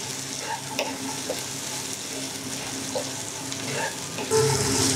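Carrots are stirred and fried in a pan for white sauce pasta, giving a steady low sizzle with soft scraping stirs throughout and a louder burst near the end.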